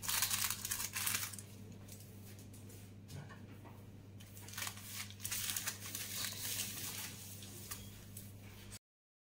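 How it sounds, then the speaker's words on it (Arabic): Dyoul pastry sheets are pulled from a plastic bag, producing steady crinkling and rustling of plastic over several seconds, close and fairly quiet, with a low hum beneath. "نجيب أوراق الديول نحلهم من الكيس"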